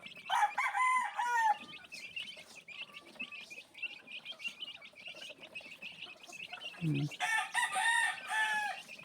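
Mother hen and a brood of chicks squawk in a loud commotion, with clucking and overlapping shrill peeps throughout and bursts of louder calls near the start and end.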